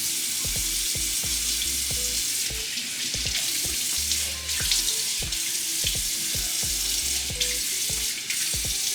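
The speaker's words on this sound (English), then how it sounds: "I just rinse off my face with some water" Tap water runs steadily into a bathroom sink while a face is rinsed, with irregular splashes and small knocks from hands and water breaking the flow; the sound is close, continuous and free of speech.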